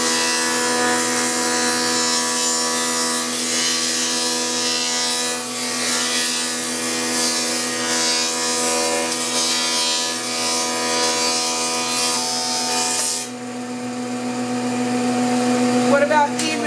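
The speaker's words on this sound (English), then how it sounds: "It is technically a thickness planer, so you can alter the thickness of the material you're working with" A thickness planer runs on wood for bathroom cabinet stock, a loud continuous whining roar that holds steady, then drops to a lower motor hum as the board clears and the cutter spins down.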